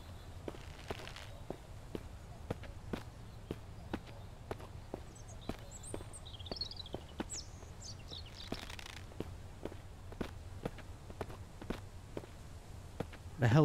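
Someone walking in the survival game Mist Survival, a long run of regular, faint footfalls ticking along at a steady pace with a few brief chirp-like sounds mixed in.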